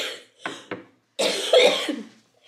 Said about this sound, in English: How appropriate before I teach about cystic fibrosis to cough my brains out.